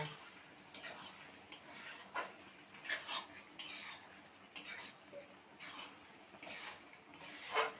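A utensil stirring cumin and coriander powder in a pan, with soft repeated scrapes and clinks at a moderate, uneven pace, faint and close, without speech.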